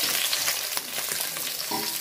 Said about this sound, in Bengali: মাছ ভাজার তেলে আমি পেঁয়াজটা ভাজা নিছি